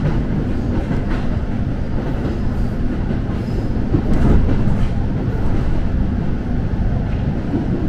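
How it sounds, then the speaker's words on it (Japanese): Train running on rails as it pulls into Kogota Station in Miyagi, Japan, a steady loud rumble of wheels and carriage noise with faint rail clatter, continuous throughout with no talk. "小牛です。 3番線の到着、お出口は右側です。"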